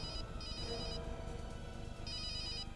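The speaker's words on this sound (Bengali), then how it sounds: "রিং হচ্ছে।" A telephone rings with repeated electronic trilling bursts, steady and moderately loud, heard alone without any talking.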